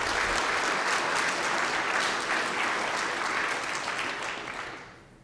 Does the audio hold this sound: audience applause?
yes